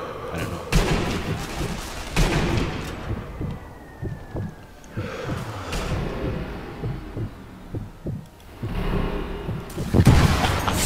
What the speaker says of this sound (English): I shot him through the box.